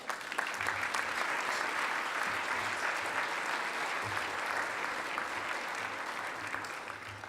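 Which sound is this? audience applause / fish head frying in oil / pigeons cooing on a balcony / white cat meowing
audience applause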